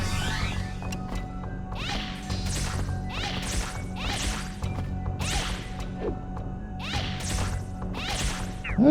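Repeated heavy swinging whacks from an enemy's horizontal attack in the Dark Cloud video game, about eight sharp swishing hits spaced roughly a second apart over a steady game hum.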